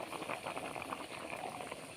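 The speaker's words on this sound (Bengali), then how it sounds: "আলু সিদ্ধ করে নিয়েছি, এবার মটর সিদ্ধ করছি।" Peas simmer in a pot of water on a home stove, giving a steady, faint bubbling with soft irregular pops throughout.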